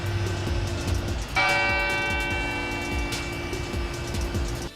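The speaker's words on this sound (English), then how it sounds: "The bells at San Fernando Cathedral rang this morning for 1 full minute" The bell of San Fernando Cathedral in San Antonio rings out with a bright, lingering tone over low traffic rumble, its strokes sustaining and overlapping as the ringing continues for a full minute.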